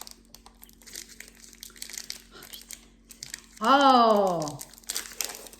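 Wafer packet crinkling as it is opened, with intermittent crackles and rustles at close range, broken by a short vocal exclamation partway through.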